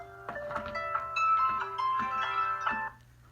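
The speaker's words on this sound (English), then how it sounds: "and there goes my phone." A mobile phone ringtone plays a bright, repeating electronic melody for about three seconds at close range, then stops abruptly, with a steady low hum underneath.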